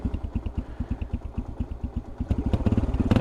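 Stock Yamaha TTR 125 dirt bike engine barely idling, a loud, close, uneven chugging pulse that stumbles, then quickens and grows louder near the end.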